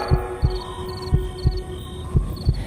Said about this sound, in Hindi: दिल जोरों से धड़कने लगा